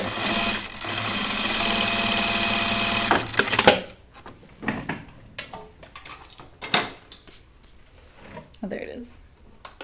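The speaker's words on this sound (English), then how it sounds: "So I'm going to sew my casing in a nice straight line." A sewing machine stitches a straight line along an oven mitt casing, running steadily for about three and a half seconds before stopping. Handling clatter, fabric rustle and intermittent speech follow.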